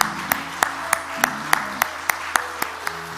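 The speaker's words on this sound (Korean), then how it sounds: "우리가 바라면서 위로의 박수를 한번 드리겠습니다" A church congregation at a Sunday service claps together in a slow, even beat, about ten sharp, evenly spaced claps at moderate volume over soft, sustained background tones.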